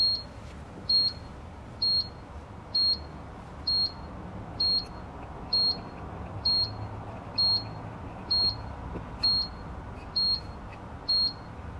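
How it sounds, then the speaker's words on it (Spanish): The audible alarm of an EXTECH CO2 meter beeps in short, high, evenly spaced tones about once a second, repeating steadily over a faint background hum. "E incluso tiene una alarma sonora."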